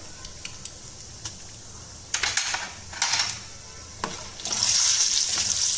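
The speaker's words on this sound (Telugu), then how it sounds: "నూనె నెయ్యి కాగిన తర్వాత 2 టేబుల్ స్పూన్ల జీడిపప్పు. జీడిపప్పు సగం వేగగానే" Cashews fry in hot oil and ghee with a quiet, steady sizzle and a few light taps at first, then louder stirring scrapes, and finally a bright, intensifying hiss of frying.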